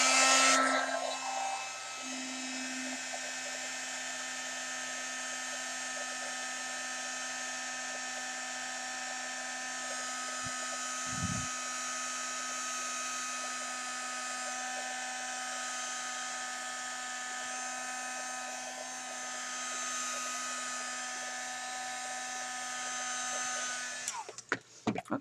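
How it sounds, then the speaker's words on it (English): Heat gun blowing steadily on handmade beads, a close, constant high-pitched motor whine with airy hiss lasting nearly the whole time before cutting off at the end, with no talking. "I'm going to take my heat gun."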